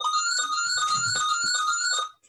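A phone ringtone goes off during a Spanish-language academic lecture, a steady electronic tone with bright overtones ringing continuously and loudly before cutting off near the end.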